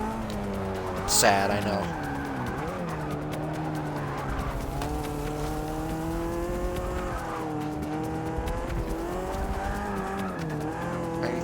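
Race cars in the video game Forza Motorsport 6, engines roaring and rising and falling through gear changes with tire squeal, steady and loud throughout as someone speaks briefly over them.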